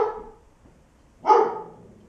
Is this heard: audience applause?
no